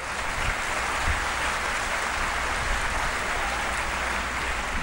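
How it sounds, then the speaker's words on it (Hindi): A large audience at a national film awards ceremony breaks into loud, sustained applause, a thick, even roar of many hands clapping at once that never lets up, with no speech. "जोरदार तालियां।"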